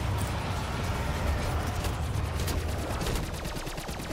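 Steady rapid gunfire aimed at a dragon in the Call of Duty zombies map Gorod Krovi, a dense rattling stream of shots that keeps going for the whole stretch over low rumbling game noise.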